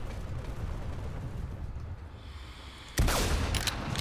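A single sharp sniper rifle report in Planetside 2 cracks out near the end, loud and sudden over a steady rumble of distant battle noise.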